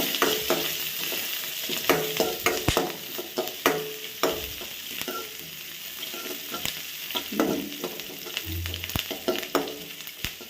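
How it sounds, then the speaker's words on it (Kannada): Onions sautéing in a pan with dried and green chillies for an Andhra-style red chutney, a steady close sizzle broken by repeated scraping stirs and clacks of a utensil against the pan, with no talking. "ಈರುಳ್ಳಿ ಹಾಕ್ಬಿಟ್ಟು ಚೆನ್ನಾಗಿ ಬಾಡಿಸ್ಕೊಳ್ಬೇಕು"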